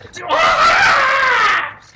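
A human voice imitates a harrowing creature scream during a tabletop fantasy role-playing session: one loud, sustained, wavering shriek lasting nearly two seconds, close and alone, fading at the end.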